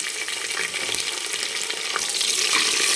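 Cut green chilies sizzle as they are sautéed in oil with fried onion, a steady bright crackle with occasional stirring scrapes, close and fairly loud throughout.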